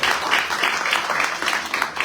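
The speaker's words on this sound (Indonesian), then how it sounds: "Kasih tepuk tangan untuk Tuhan." Church congregation at a third-anniversary service clapping for God, a brief burst of dense, lively applause filling the room.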